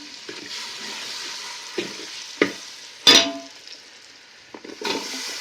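Green chillies hit hot oil in a pan for Marathi-style ghevda bean rice, giving a steady close sizzle with a few sharp bursts and stirring knocks, one loud crackle flaring midway.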